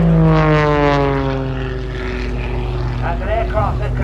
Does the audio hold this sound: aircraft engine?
yes